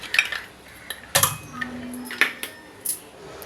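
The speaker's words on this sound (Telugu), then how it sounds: "ఐస్ క్యూబ్స్ వేద్దాం." Ice cubes clatter into a metal bowl holding a few spoonfuls of ghee, a handful of sharp clinks and knocks in quick succession, close by and fairly loud, with a faint hum underneath.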